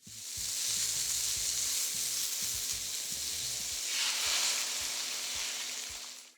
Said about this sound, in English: into the wok goes a beaten egg